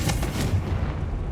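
Confringo fire spell explosion in the Hogwarts Legacy video game, a loud, deep booming blast with a rumbling tail that fills the short stretch without any talk.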